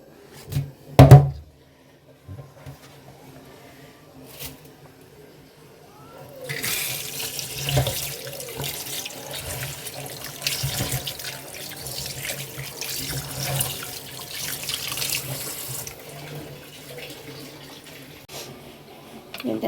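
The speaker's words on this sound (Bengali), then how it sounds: "চলো মাংসটা ধুয়ে নিই" Tap water runs into a kitchen sink while raw meat is washed before pressure cooking, a steady broad rush filling most of the clip after a few brief knocks and clatters at the start.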